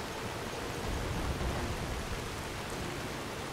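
Steady rain in the video game Skyrim Special Edition hisses as an even, unbroken wash of broadband noise, constant in level and with no voices over it.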